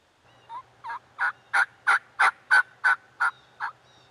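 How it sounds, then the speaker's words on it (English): Wild turkey gobbler gobbling in a field beside a gully, a loud close run of about ten rapid rattling bursts that swell and then fade, with quiet background. "This gobbler decided to cross the gully into our field and check us out."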